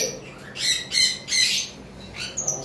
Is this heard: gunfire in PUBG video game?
no